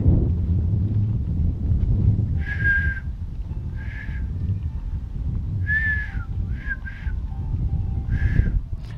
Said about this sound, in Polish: zawsze chciałem umieć gwizdać na palcach, jak w filmach się kiedyś gwizdało na taksówki